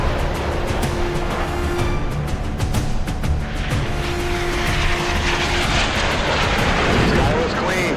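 A military fighter jet roars overhead in a staged combat training exercise, a loud continuous engine rush with sharp bursts like gunfire punctuating it throughout, and voices from the scene faintly mixed in.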